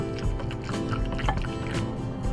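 Liquid gelatin mixture is stirred in a bowl, giving close, sloshing, gurgling swirls with scattered light taps and splashes, a steady wet churning throughout.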